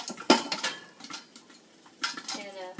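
A pot of popcorn shaken on a stovetop: quick bursts of metallic rattling and clanking of the pot and lid in two clusters, close and moderately loud, with faint sizzling between.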